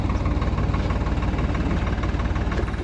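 A tractor engine powers a potato digging machine in a field, running as a loud, steady low throb with a continuous rumble and no talk.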